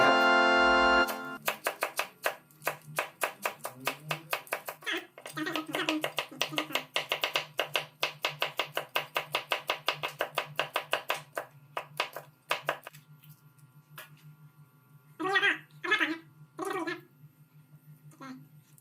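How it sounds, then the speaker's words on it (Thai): Rapid, rhythmic knife chops on a cutting board cutting vegetables, dozens of crisp close strikes in steady bursts, then a few scattered cuts with a voice talking briefly. "การหั่นผัก"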